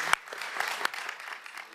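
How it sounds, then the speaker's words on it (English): Brief, thin applause from a panel discussion audience on philanthropy, thanking the discussants and panelists, a few scattered claps over a faint crowd murmur, fairly quiet and fading quickly. "I would like to extend a big thank you and round of applause to our discussants and panelists."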